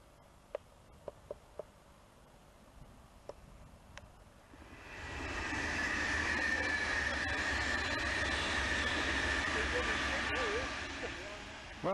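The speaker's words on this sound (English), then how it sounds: "Well, they certainly do move, these trains, don't they? That's too quick, that is." A fast train rushes past near a canal in Blisworth village: quiet outdoor ambience with a few clicks gives way to a loud, sustained roar of the passing train that holds for several seconds before starting to fade.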